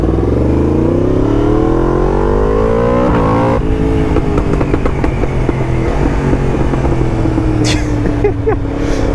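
A Yamaha MT10 motorcycle fitted with a loud Akrapovic exhaust revs hard and close, its engine note climbing and dropping repeatedly with crackling backfire pops, loud throughout with a brief voice underneath.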